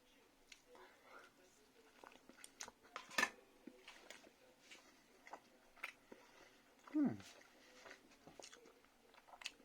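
Freshly baked homemade sourdough bread spread with butter being chewed close up, soft moist bites with occasional crunchy crust crackles amid quiet room noise and faint clinks.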